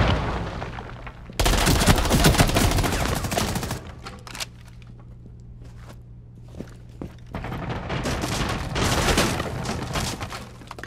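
Gunfire in Rainbow Six Siege Mobile, a dense loud burst of rapid shots for a couple of seconds, then quieter scattered sounds and footsteps, followed by another swell of shooting near the end.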